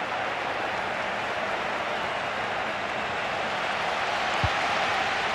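A large football stadium crowd in a FIFA video game roars as a steady, dense wash of noise throughout, with one brief thump near the end and no commentary over it.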